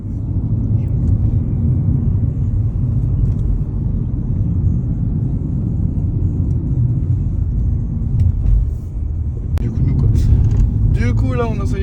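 A rental car drives along a road in Sicily, giving a loud, steady low engine and road rumble from inside the cabin, with a few brief knocks near the end.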